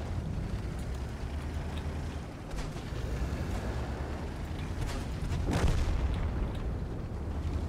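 A tank's main gun fires in the World of Tanks video game, a booming blast standing out around the middle of the clip over a continuous low rumble of engine and battlefield noise.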